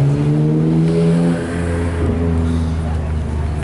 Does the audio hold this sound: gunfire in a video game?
no